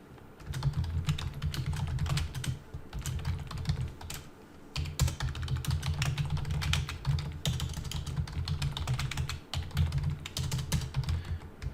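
Rapid, steady typing on a computer keyboard, a dense run of clicky keystrokes with a brief pause partway through, close and fairly loud.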